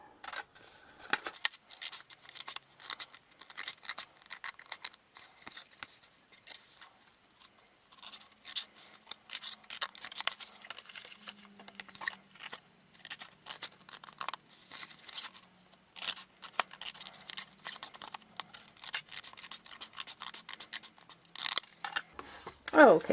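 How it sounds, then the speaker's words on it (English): Scissors snip and trim coloured paper for a card front, producing faint, scattered cutting and rustling sounds at close range with quiet pauses between. "so I just did it with scissors"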